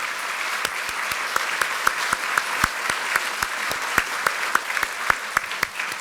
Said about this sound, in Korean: 이 자리에서 정말 우리 의원님들 당선인들께서 격려의 박수를 좀